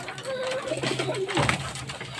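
A pigeon coos up close in soft, throaty rolling calls, repeated a few times over quiet background noise.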